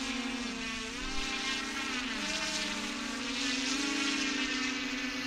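A commercial delivery drone lifts off with a steady, loud propeller whir that holds throughout and wavers slightly in pitch as it climbs.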